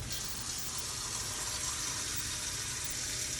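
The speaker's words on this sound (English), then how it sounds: "Now we fill this first sink, which is our wash sink," Hot water runs from a tap into a wash sink, a steady, faint, even hiss of flowing, splashing water throughout with no voices.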